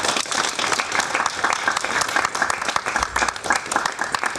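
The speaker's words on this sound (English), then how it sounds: "So a big hand of applause." A symposium audience breaks into sustained applause, a dense, even wash of many hands clapping that holds at full strength for several seconds with no voices on top.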